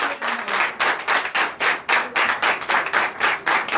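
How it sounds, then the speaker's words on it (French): A church congregation at a Sunday worship service claps in a steady, rhythmic beat, loud and close. The claps are even, about three per second, with no voices over them. "Donne encore de vive acclamation."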